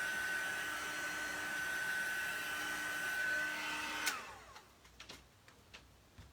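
A heat gun drying black ink blows with a steady whooshing whine for about four seconds and then cuts off, leaving a few faint clicks and handling knocks.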